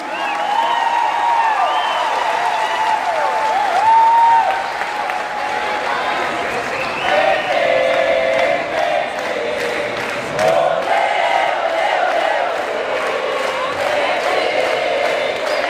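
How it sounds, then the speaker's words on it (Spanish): A gathered audience at a Latin American and Caribbean militants' conference gives Pepe Mujica a welcoming burst of applause mixed with cheers and whoops, loud and sustained, with voices calling out throughout. "Un aplauso de bienvenida a Pepe a nuestra jornada."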